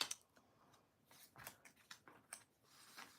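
Scissors snip through paper for a monthly journal page, a quiet series of short crisp cuts in an uneven rhythm, close by with no talking.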